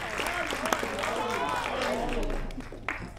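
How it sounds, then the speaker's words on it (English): Applause from a small audience at a children's Christmas recital, dense continuous clapping that fills the room at moderate volume, with voices mixed in beneath it. "A big round of applause for Anika."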